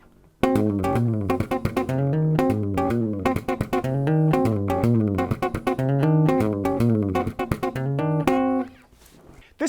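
Bass guitar tapping riff, a fast, busy, rhythmic groove of bright plucked and tapped notes played loud and alone for several seconds.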